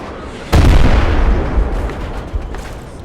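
A rocket launcher fires in a video game with a sudden loud boom that rolls into a long, rumbling decay, followed by a smaller thump near the end.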